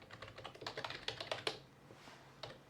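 Python pandas code being typed on a computer keyboard: a fast run of close, crisp key clatters that pauses briefly, then a single final keystroke.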